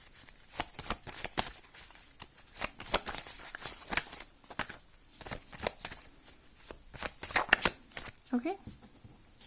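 A deck of tarot cards being shuffled by hand, a run of crisp riffling flicks and slaps in uneven bursts, close and fairly clear, with a voice speaking briefly near the end.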